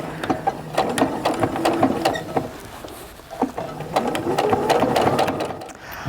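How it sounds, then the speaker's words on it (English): A sewing machine stitching and reinforcing the edge of a zip-top bag's pocket lining, with close, rapid mechanical chatter in bursts that briefly slows before running steadily again. "Go ahead and reinforce those stitches so your pocket doesn't come apart with use."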